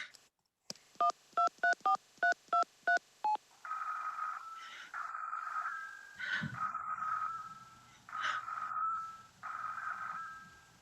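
Telephone dialing in a radio play: a rapid series of about eight short touch-tone beeps, followed by repeated ringback tones in regular bursts with a brief low thump in between, heard alone and fairly clean.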